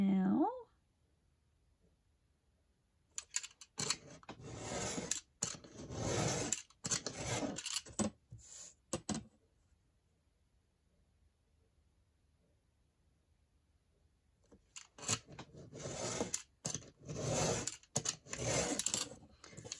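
Scissors snip and rasp through paper while a craft pocket is cut out, in two bursts of close, scratchy cutting with a long quiet gap between them.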